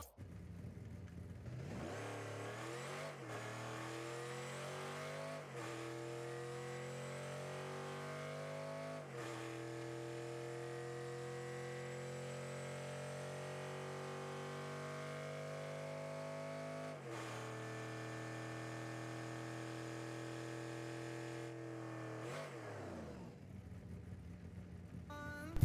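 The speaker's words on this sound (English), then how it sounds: "And here is the engine sound." A synthetic Batmobile engine in a video game revs up and holds a steady loud drone, with several quick shifts in pitch, then winds down at the end.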